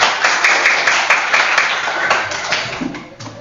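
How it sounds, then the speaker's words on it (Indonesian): A class of Indonesian schoolchildren clapping their hands together in a classroom, a fairly dense, slightly uneven burst of claps that carries on throughout at close range. "Tepuk tangan untuk kita semuanya."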